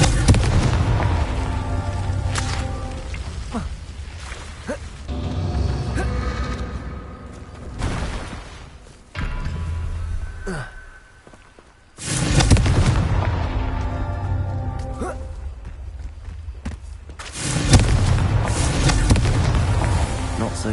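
Confringo blasting spell cast in the Hogwarts Legacy video game, a series of loud booming explosions with bursts of crackling debris, repeated several times over roughly twenty seconds with brief quieter gaps between blasts.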